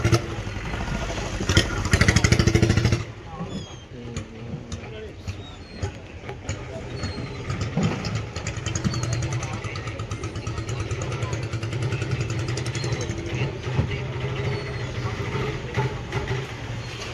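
A fishing boat engine runs with a steady low mechanical drone, louder for the first few seconds and then settling into a continuous idle-like rumble throughout, with voices talking over it at a fishing harbour.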